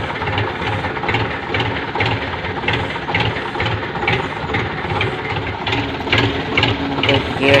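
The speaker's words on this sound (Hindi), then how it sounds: "स्टार्ट थी गया ट्रैक्टर" A tractor engine idles just after starting, chugging in a steady rhythmic pulse that carries on evenly throughout, close and fairly loud.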